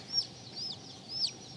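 Three short, high clucks spaced about half a second apart come from a non-bearded white-crested black Polish chicken, close and clear over a quiet background.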